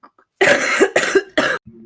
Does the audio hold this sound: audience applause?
no